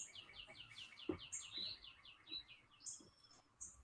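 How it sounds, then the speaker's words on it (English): Birds sing outdoors, with repeated chirping phrases in quick runs and a few sharper calls, fairly faint and distant over a quiet background. "listen to the birds"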